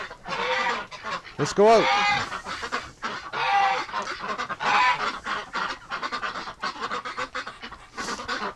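Ducks and geese let out of a winter shelter honk and quack in bursts, loud and close, mixed with a person's voice calling them outside.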